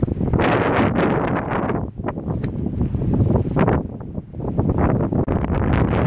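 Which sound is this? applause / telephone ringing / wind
wind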